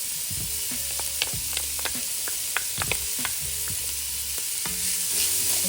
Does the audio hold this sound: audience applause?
no